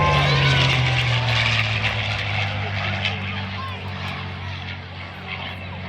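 A P-51 propeller aircraft engine drones steadily, a loud low roar that fades slightly toward the end, under people talking nearby.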